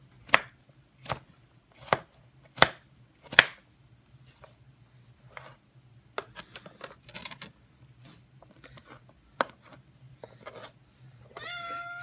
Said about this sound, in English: So that's how I do my chopping.